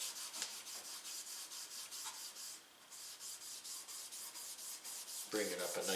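Cloth rubbing finish hard into the wooden stock of a Lee Enfield No. 4 Mk1 rifle during refinishing, a quiet rhythmic back-and-forth scrubbing with regular strokes, close up.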